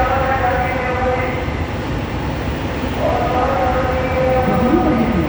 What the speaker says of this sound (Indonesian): The train heading to Jatimulya is going to enter platform number 1.